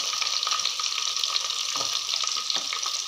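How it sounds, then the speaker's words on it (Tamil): Garlic fries in oil with a continuous bright hiss and fine crackling, steady and moderately loud, with a few faint taps. "அதுவும் இந்த எண்ணெயிலேயே நல்லா வதங்கட்டும்."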